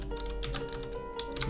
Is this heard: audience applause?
no